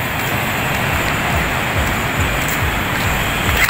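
Strong sea waves breaking on a beach at Binmaley, Pangasinan, heard as a loud, continuous roar of surf and wash, steady and broadband throughout, with no speech over it.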